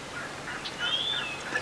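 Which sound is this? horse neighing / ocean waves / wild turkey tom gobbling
wild turkey tom gobbling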